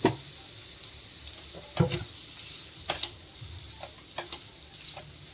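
Green cluster beans (gavar) get stirred into a spicy masala in a pan, a steady sizzle under scraping strokes and a few sharper clinks of the spoon, close and fairly loud.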